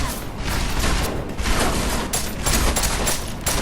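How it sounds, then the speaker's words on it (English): Pistol gunfire in the video game Deus Ex: Mankind Divided, a dense run of shots and booms with mechanical clatter, steady and loud throughout with no talk over it. "Pistoling these guys are cool."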